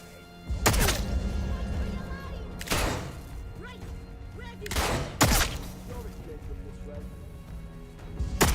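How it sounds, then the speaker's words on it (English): Gunfire in Atomfall: four heavy, sharp shots ring out one by one, spaced about two seconds apart, with a fifth starting at the very end, amid quieter game ambience and scattered talk. "I'm shooting!"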